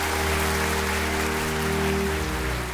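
A theater audience applauds a talent-show contestant, Roux Acharya, with steady, dense clapping that holds evenly throughout over a low tonal hum.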